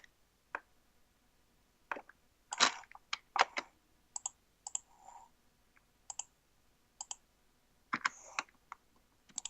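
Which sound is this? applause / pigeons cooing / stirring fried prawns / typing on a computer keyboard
typing on a computer keyboard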